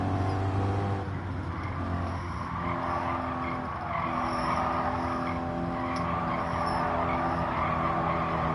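Continuous tire squeal from a car drifting in Gran Turismo 7, a steady, loud skid with engine drone underneath, holding throughout with slight pitch shifts.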